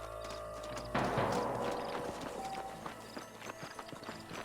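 Horse hooves clip-clop in the video game Red Dead Redemption, a run of close hoofbeats that fade into lighter, scattered steps over a soft ambient background.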